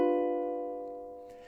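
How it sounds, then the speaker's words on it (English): A single ukulele strum across all four strings, ringing out as one bright chord that slowly decays, heard alone and close. "We're going to strum through all 4 strings"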